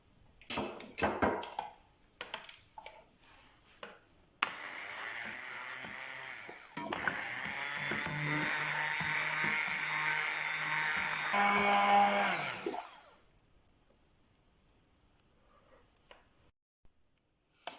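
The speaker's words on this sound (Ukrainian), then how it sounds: "І перебиваємо блендером до однорідності, щоб не було грудочок." A blender whirs steadily for about eight seconds, blending cottage cheese until smooth, its motor straining and rising slightly before cutting off, with clinks and handling noise before and after.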